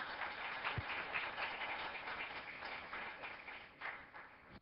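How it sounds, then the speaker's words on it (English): An audience at a meeting gives a round of applause, a faint, muffled and steady patter of claps throughout, sounding distant and low in level. "So I think Elizabeth and Selena, they definitely deserve a round of applause."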